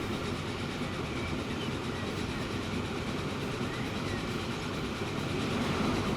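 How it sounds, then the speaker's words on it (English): A train rolling past in the railway simulation game Transport Fever, a steady low rumble with faint rhythmic clatter that holds evenly and swells slightly toward the end, with no voices. "Another train going by."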